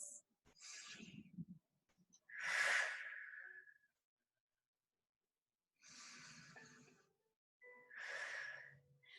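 Slow, deep breaths taken while resting in child's pose, with two long airy inhale and exhale pairs, close and soft, separated by silence.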